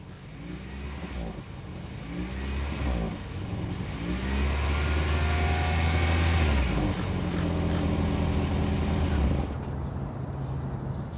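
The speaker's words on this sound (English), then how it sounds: "now let's try to listen to the exhaust" The engine of a 2026 Toyota Prius plug-in hybrid revs up and holds a rising drone through the exhaust before settling back to a lower hum. No voices are heard.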